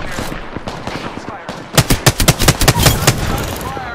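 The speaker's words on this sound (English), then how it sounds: "Shots fired and they're hitting me." Gunfire in the video game Apex Legends: scattered shots at first, then a loud rapid burst of about a dozen sharp reports in quick succession, with a voice speaking early on.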